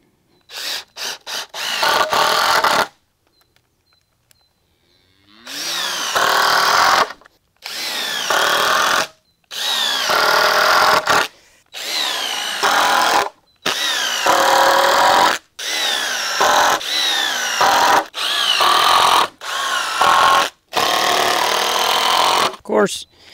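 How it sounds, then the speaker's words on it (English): A power drill drives screws into wood boards while a budget feed bunk is built, in a series of short, loud whirring bursts separated by brief pauses, starting with a few quick blips. "We're gonna shoot screws in"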